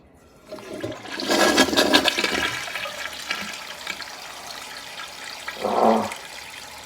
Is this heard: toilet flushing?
yes